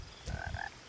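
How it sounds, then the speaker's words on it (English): A brief frog croak with a rattling, buzzy call in the outdoor setting of What Remains of Edith Finch, the video game, close against a faint ambient background. "Oh, that's a lot of frogs."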